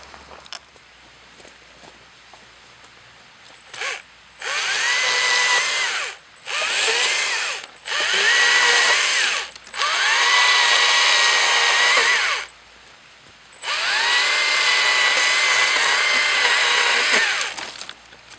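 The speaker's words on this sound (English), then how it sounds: "demonstrate how good this chainsaw is working. The electrical Stihl chainsaw." A Stihl MSA 120 C electric chainsaw whirs in five bursts of a few seconds each, loud and close, with brief quiet gaps between runs and no talking.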